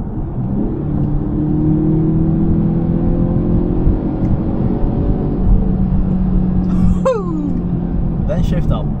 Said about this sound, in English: for a little four cylinder it definitely does not sound bad. It sounds rather great actually.